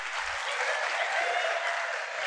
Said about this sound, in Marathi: ही बघा पोरं ह्याला टाळ्या वाजवतात.